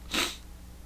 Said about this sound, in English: Sorry, I feel the sneeze coming on.